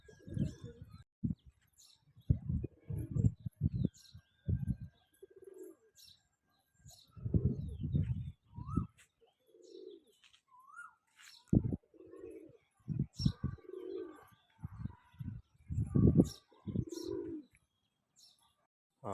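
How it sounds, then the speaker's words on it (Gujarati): Domestic pigeons coo in a series of soft, low, throaty calls with short pauses between them, close by, while faint chirps and a light flutter of wings come through in the background. "હાલો હવે કબૂતર પૂરવાનો ટાઈમ થઈ ગયો છે"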